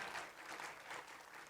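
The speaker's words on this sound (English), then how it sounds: "let's give another big round of applause to our staff for putting this together" An audience claps at a boards and commissions appreciation luncheon, a brief dense burst of applause from a crowd, steady and fairly loud with no voices.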